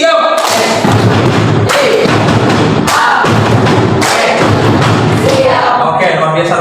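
A school class performs the rhythmic 'tepuk siap' clapping routine together, with loud, close bursts of group claps and thumps in a patterned rhythm, interspersed with students' voices chanting along.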